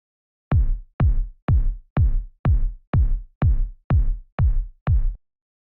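A deep kick drum sample without EQ cleanup repeats ten times in a steady, even rhythm, each thump booming and decaying quickly, heard alone with no other sounds.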